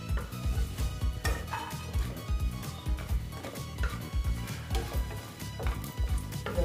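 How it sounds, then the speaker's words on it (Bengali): Lentil dumplings (bori) frying in oil in a pan, a steady sizzle broken by frequent clinks and scrapes of a utensil stirring against the metal, close and fairly loud. "আবার আমি ভেজে নিচ্ছি একটু।"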